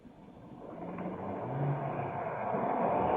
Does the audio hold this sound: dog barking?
no